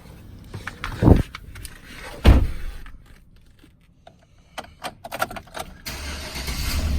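A 2012 Chevrolet Silverado 1500 pickup truck engine cranks and catches, with a couple of loud thumps early on, then settles into a low idle with light clicks and rattles.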